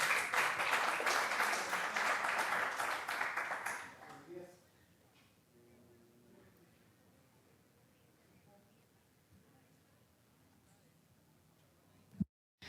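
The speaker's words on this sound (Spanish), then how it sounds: "Un aplauso" An audience at a QGIS users' conference in Mexico gives loud sustained applause that fades out after about four seconds, leaving quiet room noise and a brief bump near the end.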